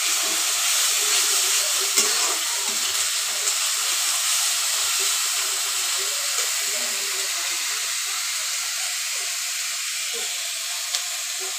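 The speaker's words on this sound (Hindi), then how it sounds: "अदरक लहसुन का पेस्ट हम अच्छे से भून ले रहे हैं।" Ginger garlic paste frying in a pan gives a steady, continuous sizzling hiss that stays level throughout, with no talking.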